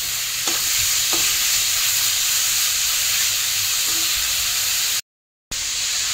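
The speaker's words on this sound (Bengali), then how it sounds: "ফ্রেন্ড, টমেটোটাও দিয়ে দিয়েছে, এবার সব নাড়াচাড়া করে যাচ্ছে।" Onions and tomatoes stirred as they fry in butter for pav bhaji, a steady close sizzle with a few light utensil knocks, a short dropout near the end, and no talk.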